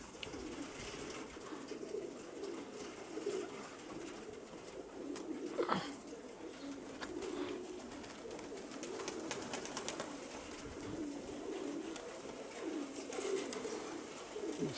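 Mykolaiv pigeons coo repeatedly in soft, low, rolling calls outdoors, with a brief flurry of wing noise partway through and light ambient background.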